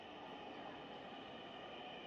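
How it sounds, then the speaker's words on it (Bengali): A Dhaka metro rail train approaches the station, its steady rumble and hum filling the platform evenly from start to finish, with no one talking. "এখন মূলত ট্রেন চলে আসছে, যা আপনারা দেখতে পাচ্ছেন।"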